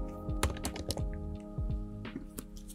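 Keys clack on a keyboard while an activation key is entered on a setup screen, a quick irregular run of close, crisp taps with short pauses between groups.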